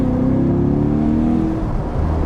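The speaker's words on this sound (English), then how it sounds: "Straight into V8. Absolutely seamless the way it turns on those additional 4 cylinders." A 2021 Chevrolet Corvette Convertible engine running steadily from inside the cabin as it shifts from four-cylinder to full V8 operation, a smooth continuous drone with a slight rise in tone and no talk.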